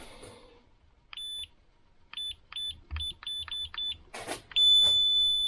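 Short high-pitched multimeter continuity-test beeps repeat in an irregular series while checking a car trunk-release button, ending in one longer sustained tone, with faint rustling and handling noise between them.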